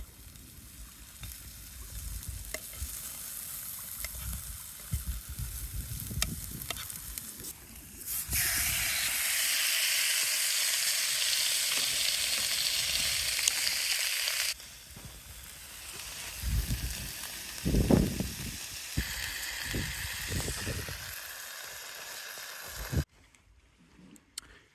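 A ribeye steak sizzles in a pan at a winter motorcycle campsite, the hiss swelling loud for several seconds and then settling to a lower crackle broken by a few thumps.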